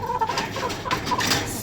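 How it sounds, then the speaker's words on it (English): Golden laced Orpington chickens cluck and murmur nearby in a poultry yard, a short run of soft overlapping clucks with a few brighter calls. "Here we have these beautiful chickens, the golden laced Orpingtons."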